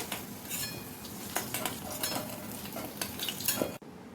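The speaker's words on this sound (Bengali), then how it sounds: "কচু আর আলু দুটো আমি একসঙ্গে ভেজে নিচ্ছি" Taro and potato pieces fry together in oil in a pan, a busy close sizzle broken by the scrape and clink of a spatula stirring against the metal.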